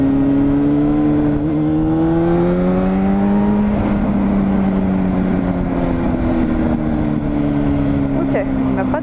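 A 2001 Honda Hornet 600 four-cylinder motorcycle engine revs loudly on the move, its pitch climbing and falling through gear changes.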